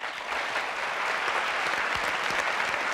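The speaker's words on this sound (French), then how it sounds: "applaudissements pour Karine." Steady, dense studio audience applause on a French television show, many hands clapping together at an even level for about three seconds, with no speech over it.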